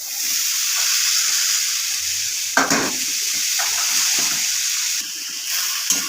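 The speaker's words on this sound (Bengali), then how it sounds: "শাকটা দিয়ে আমি এই যে ভালো করে নেড়ে চেড়ে নিলাম" Kalmi shak (water spinach) greens stirred in a hot pan with turmeric and green chilli, giving a steady loud sizzle with a few scraping stirs and bursts of crackle, with no voices.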